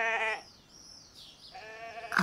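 A sheep bleats twice, a wavering bleat, then a pause of near quiet before a second bleat.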